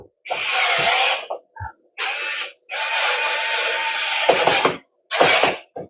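A battery screwdriver drives a screw into a plastic thread in short bursts of high whining motor, a long run in the middle, separated by brief pauses and small clicks, close and clear.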